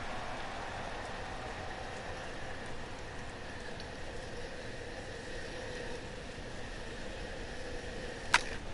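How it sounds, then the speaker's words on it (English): Steady rain hiss over a baseball stadium in MLB The Show 17, Citizens Bank Park, a continuous broadband wash with a faint tonal band and one brief sharp click near the end, no talk. "it's rainy here at Citizens Bank"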